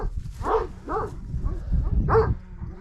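A curious stray dog barks on a farm, a few separate woofs close by, spaced unevenly over a low background rumble, with no talk over them.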